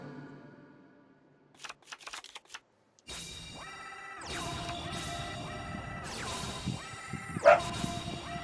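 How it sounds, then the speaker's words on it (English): A pet dog barks indoors in a quick cluster of sharp yaps, followed by game sound effects and music. "There goes my dog JJ barking up a storm."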